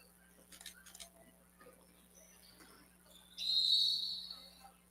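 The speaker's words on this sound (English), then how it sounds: "Whistle here." A referee's whistle at a boys' basketball game blows one sustained, shrill blast in the second half, rising over faint gym noise and scattered sounds of play.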